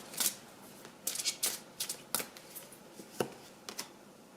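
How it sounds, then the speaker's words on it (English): A deck of tarot cards is shuffled up close and quietly, in a series of short, crisp riffles and flicks with small pauses between them. "I'll pull more cards for you."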